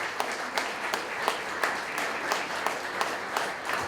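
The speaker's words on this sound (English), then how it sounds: "Let's give her a nice round of applause." A room of guests at a charity networking event applauds a teacher, steady overlapping clapping with a few sharper individual claps standing out in a loose rhythm, moderately loud.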